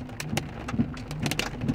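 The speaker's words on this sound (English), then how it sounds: "It's just more hail" Monsoon hailstorm in Sedona, with hailstones striking nearby surfaces in irregular crisp clicks and knocks over a continuous rush of heavy rain.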